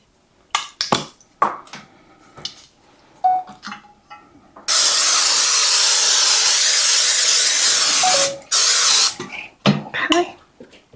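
Cooking spray hisses into a pan in one long steady burst of about four seconds, loud and close, with clinks, handling noises and a brief cough around it.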